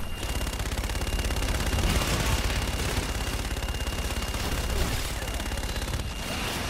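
Sustained aircraft gun-run fire in Call of Duty: Infinite Warfare, a dense continuous stream of rapid shots lasting throughout, loud and close with heavy low rumble and no pauses.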